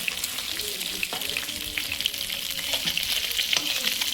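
Fish frying in a pan, lightly cooked and not crisped, giving a dense, continuous close sizzle with small crackles and occasional soft stirring knocks, steady in loudness throughout, with no voices.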